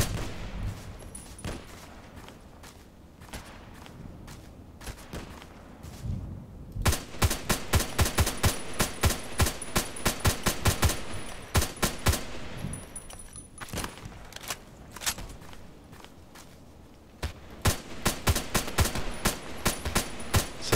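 Bursts of rapid HK 417D assault rifle fire in a video game, loud sharp shots in clusters and long strings with short pauses, some single shots between, no talking.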